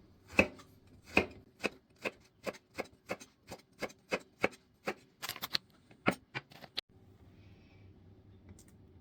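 A knife slices peeled patola (sponge gourd) on a cutting board in a steady run of about a dozen sharp, close chops that come faster near the end, then stops and leaves quiet room tone.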